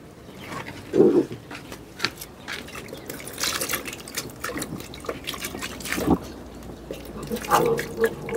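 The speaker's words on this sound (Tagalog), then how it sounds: "So, magpalit tayo ng tubig." Water splashes and trickles in short bursts as a pet's drinking water is poured out and refilled, with people talking quietly around it.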